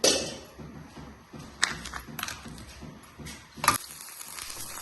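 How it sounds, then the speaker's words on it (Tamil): Sausage and egg frying in a pan brushed with a little oil, a soft steady sizzle with occasional taps and clinks of a utensil against the pan, close and fairly quiet. "இன்றைக்கி பிரெட் டோஸ்ட் போட்டு சாசேஜும் முட்டையும், கொஞ்சமாக எண்ணெயை ப்ரஷ் பண்ணிட்டு"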